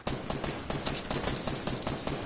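Gunfire in the video game Fortnite, dense rapid bursts of automatic shots forming a continuous loud crackling barrage that fills the whole moment.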